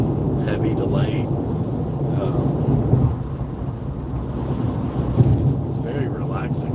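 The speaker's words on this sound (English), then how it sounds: "10-15 minutes long of just heavy rain, heavy to light" Heavy rain with rolling thunder while driving through Houston, Texas: a loud, dense, steady roar of downpour and low rumble heard from inside the car, with someone talking over it.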